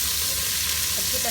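Garlic ginger paste fries in a pan for butter chicken, making a brief, steady, close sizzle with faint stirring.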